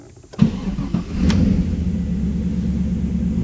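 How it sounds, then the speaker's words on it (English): A Chevrolet Camaro SS V8 cranks briefly and fires with a sharp catch, then settles into a steady, deep idle rumble, heard close and loud with no talking. "starting a V8."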